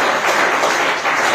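An audience at a Christian sermon claps together in a steady, loud wash of applause that runs unbroken throughout, with no talk heard.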